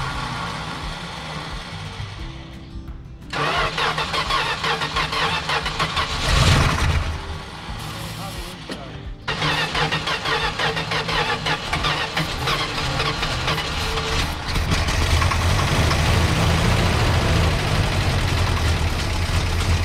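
A 1970 Plymouth Fury III convertible, pulled from a North Carolina tobacco barn, cranks over with a loud, steady mechanical churn that starts after a quiet opening, stops briefly, then resumes and grows fuller toward the end.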